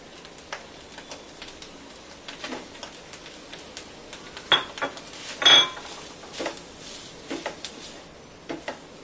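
Rice being tipped into sautéed spinach in a pan, with scattered clinks and scrapes of a metal spoon against the cookware and a few sharper knocks, faint and close with no talking.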